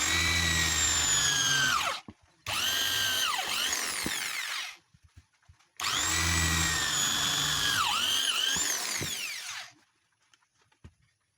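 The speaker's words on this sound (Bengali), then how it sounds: "এখানে আমি দুটি হোল করব ড্রিল মেশিন দিয়ে" Power drill boring two holes into a soldering iron station base, two loud whining bursts of several seconds each, motor pitch dropping as the bit bites and winding down, with quiet handling clicks between.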